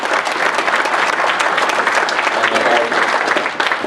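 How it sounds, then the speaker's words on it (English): A crowd at a mayoral forum applauds the candidates, a loud, dense and steady burst of clapping that holds evenly across the whole stretch, with voices faintly mixed in. "please, once again, round of applause for the candidates"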